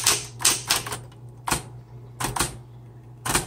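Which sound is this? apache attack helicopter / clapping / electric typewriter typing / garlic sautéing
electric typewriter typing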